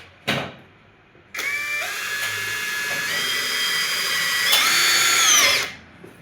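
A power drill drives screws into a tandem box fitting in a kitchen interior, starting after a sharp knock with a steady high whine that climbs in pitch in steps, then winds down to a stop.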